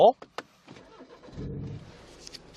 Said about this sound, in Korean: 이 차량 일단 시동부터 한번 걸어볼게요.